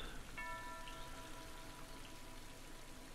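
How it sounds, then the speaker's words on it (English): Rain falls steadily inside a church in the video game Hardland, a soft continuous patter of drops with a brief faint tonal chime near the start, quiet and alone throughout. "Is it raining inside the church?"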